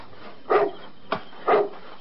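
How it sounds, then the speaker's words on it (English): A dog barks outside a house at night, two sharp single barks about a second apart with a faint knock between them, fairly close and alone. "Now, what are you barking at?"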